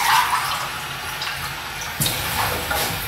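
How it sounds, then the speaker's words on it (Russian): Cold water runs and splashes steadily into a pot holding jars, a continuous gushing pour with a brief louder surge partway through. "После того, как банки установлены, нам нужно залить их холодной водичкой."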